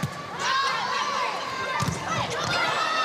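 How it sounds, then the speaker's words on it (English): A knowledgeable home crowd at a Hawaii Rainbow Wahine women's volleyball match against San Francisco in 2012 roars and cheers throughout, a loud continuous arena din with shouts and whistling swells, plus bursts of sneaker squeaks. "This is a knowledgeable Hawaii crowd."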